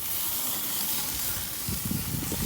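Burger patty sizzling over an open grill flame, a continuous bright hiss of frying fat with a few low sputters and pops toward the end, heard close and alone.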